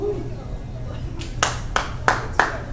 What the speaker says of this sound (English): Mini applause.